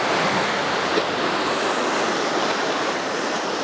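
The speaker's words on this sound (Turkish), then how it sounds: "Burası Mersin'in sahili arkadaşlar" Sea waves on a windy Mersin beach in Turkey, a loud, dense, continuous wash of surf mixed with wind buffeting the microphone, steady throughout with no voices.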